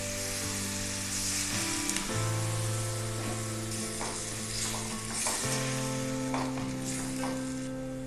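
Chicken being stirred in a frying pan with a little water added, with continuous loud sizzling and bubbling and scraping stirs throughout, alongside a steady tonal hum in the background.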